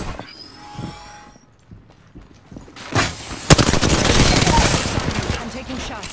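Apex Legends gunfire starts after some quiet mechanical handling noises and builds into a loud, sustained stream of rapid shots with a sharp crack partway through, up close and continuing to the end.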